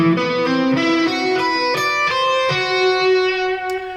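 Bright electric guitar picks out a stretched, ringing sus2 arpeggio, notes climbing and overlapping with sustain, played alone at a steady moderate pace.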